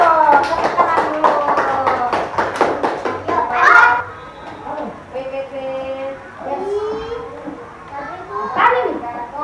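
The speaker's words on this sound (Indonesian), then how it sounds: "tepuk tangan dulu dong buat semuanya" Elementary school children clap in a quick rhythmic burst for a few seconds in a classroom while kids chatter and call out around them.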